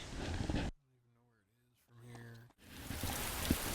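Dense rain hisses steadily in the video game DayZ, cutting out briefly while someone speaks, then returning loud and continuous.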